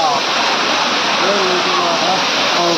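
Moola Kona waterfall in the mountains roars as a loud, unbroken rush of falling water that fills the whole clip with a dense, steady wash.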